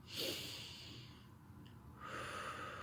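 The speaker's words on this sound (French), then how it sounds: "tu pourras simplement prendre quelques bonnes respirations" Slow, deep breathing during a relaxation exercise, heard close as two long airy inhale and exhale passes with a soft quiet stretch between them.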